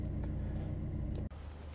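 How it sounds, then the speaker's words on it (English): A Vauxhall Corsa D with a 1.2 engine idles while warming up, a steady, low, even hum close by with no talk, briefly dipping once before carrying on. "So the engine's on, warming up, so that'll be easier to drain the oil."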